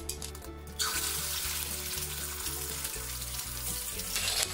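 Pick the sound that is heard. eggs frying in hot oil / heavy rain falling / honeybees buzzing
eggs frying in hot oil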